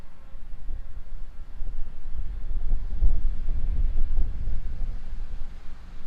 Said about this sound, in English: A little bit of wind getting up again